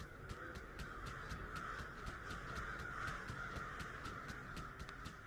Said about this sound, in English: These crows are wild, dude.